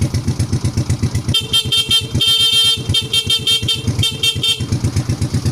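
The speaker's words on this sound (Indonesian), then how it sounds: "Kita akan tes bunyi klaksonnya seperti apa." Car horn powered by an installed capacitor with no battery sounds in several honks, steady and clear, over a close, pulsing engine idle that runs throughout, with no talking.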